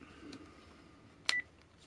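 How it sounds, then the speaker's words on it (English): A phone gives one short, sharp notification beep against a quiet room background. "That phone has been blowing up."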